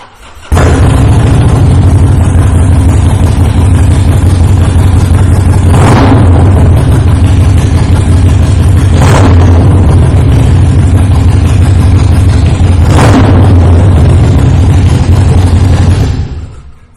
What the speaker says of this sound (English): I am going to take the opportunity to fire this bike up real quick so you can hear that Vance and Hines exhaust on here.